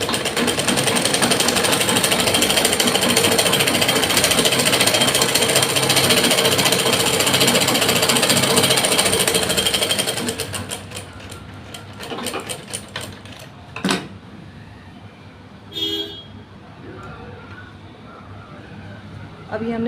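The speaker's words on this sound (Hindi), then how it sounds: "हम एक बार और इस पर सिलाई लगाएंगे ताकि हमारे आसन की सिलाई पक्की हो जाए।" A sewing machine runs a reinforcing line of stitching along a pant lining seam, a loud, steady, close mechanical whir for about ten seconds, then stopping, followed by scattered clicks and handling sounds.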